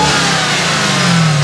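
A 2018 Dodge Challenger SRT Demon with a supercharged Hemi V8 roars loud and close, the engine revving in one sustained, rising pull with a deep rumble.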